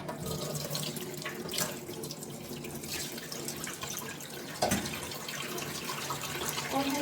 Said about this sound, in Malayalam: നനച്ചു കൊടുക്കട്ടെ